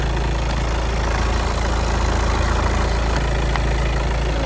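A 2005 VW Sharan 2.0 110 kW petrol engine idles steadily, a smooth, even low rumble heard close by and alone with no voices.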